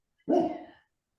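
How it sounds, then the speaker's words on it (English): A single short, loud bark from a dog close by, cut off cleanly and followed by silence. "shut that damn dog up"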